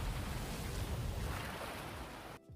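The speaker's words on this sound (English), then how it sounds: "like the sound effect of like the waves and all that stuff while she's doing a little MVP surf animation" Ocean waves wash in a continuous rushing surf with a low rumbling undertone, from a Marvel video game surf animation, steady and fairly loud before cutting off abruptly near the end.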